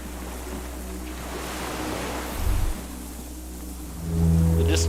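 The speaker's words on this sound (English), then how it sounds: "The distant sound of cargo ships, signal horns echo on the water." Low, distant signal horns drone over lapping water and wind in the Disco Elysium video game, a long steady horn tone joined near the end by a louder, deeper blast.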